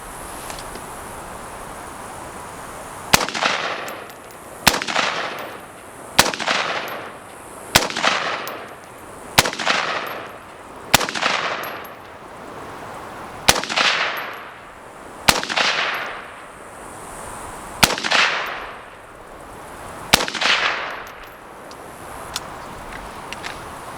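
Rifle fitted with an inexpensive ACOG-style scope fires about eleven sharp, loud shots at a range. The shots come at a steady pace a second or two apart, and each crack is followed by a short echoing tail.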